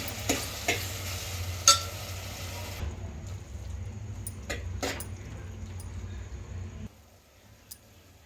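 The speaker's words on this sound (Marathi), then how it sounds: "वाटण पण छान परतून घ्यायचं आहे" Ground masala paste sautés in a pan for Puneri misal, with a soft sizzle and occasional scraping stir strokes. The sound is faint and close, and it thins out near the end.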